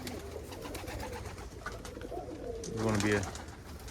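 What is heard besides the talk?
young homing pigeon cooing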